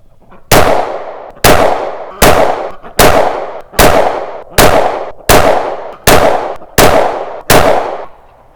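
Ten loud, evenly spaced 9mm pistol shots ring out one after another at an outdoor range with a chronograph downrange, each sharp crack followed by a brief decaying echo, with no talking.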